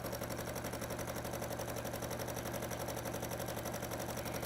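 A sewing machine stitches a quarter-inch seam in fabric, a steady, close mechanical whir that runs evenly without pause and with no voices.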